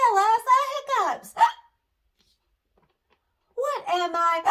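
A storyteller's voice imitates hiccups, giving a short sharp hiccup sound between spoken phrases. A brief silence follows before the voice resumes.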